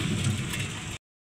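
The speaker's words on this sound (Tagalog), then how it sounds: "Malakas na ulan." Heavy rain mixed with falling ice pelts a roof outdoors, a dense, loud steady patter lasting about a second before cutting off abruptly.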